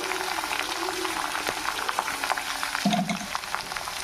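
Okra and onion pieces for a crispy okra fry sizzle steadily in a hot pan with a dense crackle, close and fairly loud, with a brief utensil knock partway through.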